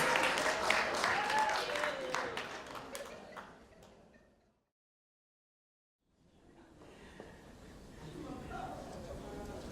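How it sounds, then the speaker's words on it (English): Awards ceremony audience clapping, loud and dense at first, fading into silence for a couple of seconds, then a softer return of crowd noise and clapping with some voices in the hall. "let's give a round of applause for Ruth Pasi Magodo all the way from New South Wales"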